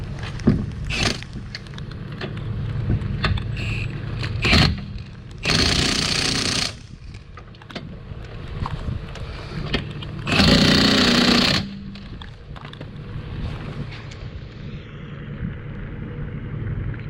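Power-tool ratcheting bursts snugging wheel lug nuts on a car with a wheel about to fall off, two loud buzzing runs about a second each, separated by shop rumble and clanks.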